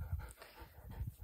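Dog panting indoors in a home, quick soft breathy pants in short bursts, close and fairly quiet, with no talking.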